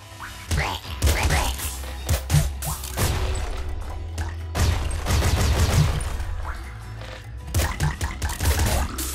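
Machine gun fire in Nuclear Throne, rapid bursts of sharp crunchy shots and impact crashes in clusters, loud and up close with short pauses between volleys.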